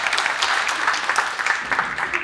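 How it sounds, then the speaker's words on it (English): Audience at a science slam breaks into steady applause, a dense wash of many hands clapping at even loudness throughout. "Round of applause,"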